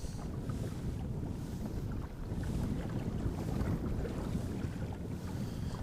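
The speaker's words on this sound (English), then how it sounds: "So there we go, heading into wind and a bit of chop now." Wind buffeting the microphone and choppy water slapping against a 3.2 m Pedal Pro Fish pedal kayak heading upwind on open water, a steady loud rushing roar throughout with no talking.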